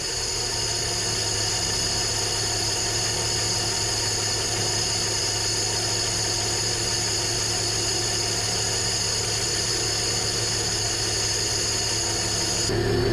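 Engine of a 1968 Ford F100 pickup truck, long left unused, idling at a steady, constant drone from start to finish, with faint high whine and rough vibration throughout and no talking.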